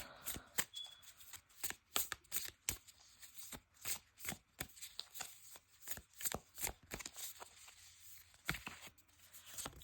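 A tarot deck being shuffled by hand, a repeated run of soft papery riffles and taps in irregular bursts; close but very quiet, with no talking.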